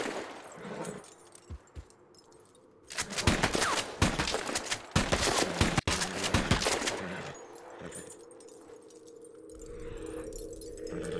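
Gunfire in the Red Dead Online western game, a dense burst of rapid shots and crackling reports for several seconds, followed by quieter ambient outdoor sound.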